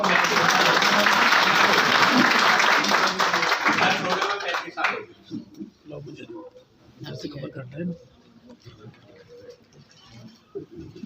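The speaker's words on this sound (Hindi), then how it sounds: "जोरदार ताली बजाओ" A crowd at a Savitribai Phule birth anniversary gathering applauds loudly for about four seconds, then the clapping fades out and a voice speaks over sparse scattered claps.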